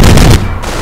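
Gunfire in the Company of Heroes strategy game, a loud, dense burst of shots and booms that cuts off abruptly and leaves a quieter rumbling tail.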